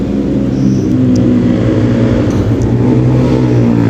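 A 2008 Yamaha Mio Sporty scooter engine running under test after a front pulley repair, a loud, close, steady drone that holds strong for the whole stretch.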